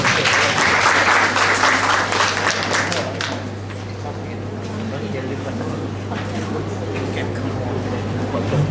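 Applause from an audience welcoming a competitor at a university speech competition in Thailand fills the opening seconds loudly, then softens into a sustained lower wash of crowd noise and a few scattered claps.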